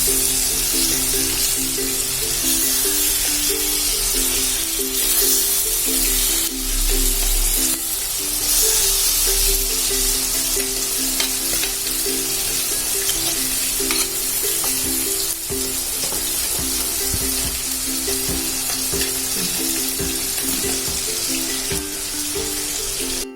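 Sardine roast bubbling and sizzling steadily in a pan, a continuous loud frying hiss with low bubbling throughout and occasional faint stirring, no voices.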